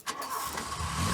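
A car engine cranks and catches, building into a steady mid-pitched running note over about a second, fairly close and without speech.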